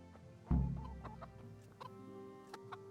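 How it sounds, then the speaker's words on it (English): Chickens cluck in the video game Kingdom Come: Deliverance, opening with one loud, close squawk and followed by a scatter of softer, broken clucks and chirps with small clicks, and no voices. "Chickens."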